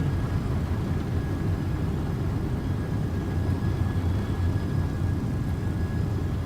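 Airliner takeoff roll in X-Plane 12, a continuous loud, broad engine roar that stays steady and dense throughout with no voices over it.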